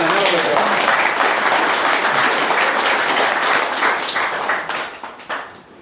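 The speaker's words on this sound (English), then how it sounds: "we should be standing out and clapping hands for him" An audience applauds at a community talk in Gympie, with dense, steady clapping that carries on for several seconds and then thins out toward the end, while some voices murmur underneath.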